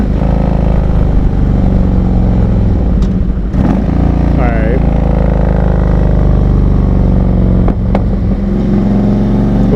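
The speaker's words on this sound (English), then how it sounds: "Those were nice little two pops at the end." Motorcycle carrying a rider and passenger on a Rhode Island road, engine droning steadily with two short exhaust pops near the end, under a voice talking.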